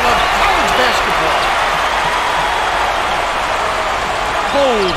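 Steady roar of a basketball arena crowd in College Hoops NCAA 2K8, an NCAA East First Round game between USC and Michigan State, loud and continuous with a few swells of cheering and faint sneaker squeaks.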